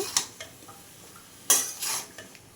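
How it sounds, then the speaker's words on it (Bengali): Pumpkin greens with cumin, coriander, salt and turmeric in a pan, with a few scattered metallic clinks and scrapes of a spoon and a louder clatter like a lid being set down, over quiet background. "এবার নাড়াচাড়া করে একটা ঢাকনা দিয়ে ঢেকে দেব"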